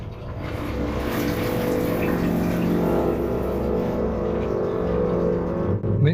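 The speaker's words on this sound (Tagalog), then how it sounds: "Pag nandito ka sa banyo, buksan mo ulit ang tubig." Water running from a bathroom tap, a steady rushing flow that holds at an even, fairly loud level for several seconds before cutting off near the end.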